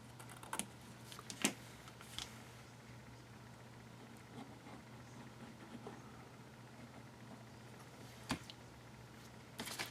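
Scissors snip a few small cuts into fabric, quiet sparse clicks spread over a low steady hum in a calm room.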